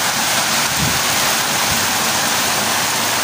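Heavy rain pours down outdoors by a small hut, a dense, steady roar that stays loud and unbroken throughout with no voices.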